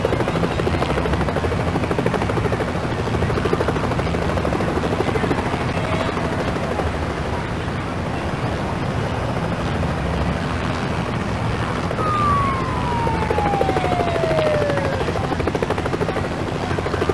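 A helicopter from the 1993 3DO game It's A Bird's Life flies with a loud, continuous rotor chop throughout, a steady dense thrum that never lets up, with a faint falling whistle partway through.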